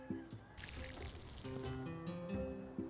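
Crops are watered in the farming game Sugardew Island, a soft pouring, trickling splash of water that repeats in short bursts over light background game music, without voices.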